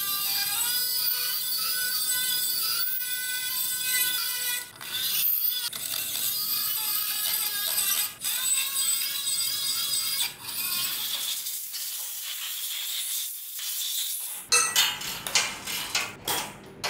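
Ratchet wrench tightening bolts on the carburetor flange of an AE86 Toyota Trueno, close metallic clicking in repeated bursts broken by short pauses, with occasional tool clanks and no talk.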